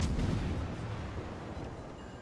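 Warship guns fire in the World of Warships video game, opening with a deep booming salvo that rolls off into a long, loud rumbling decay.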